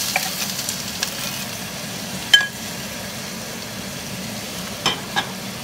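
Garlic and chopped onions frying in a pot, a steady soft sizzle throughout with a few sharp clanks of utensils against the pot.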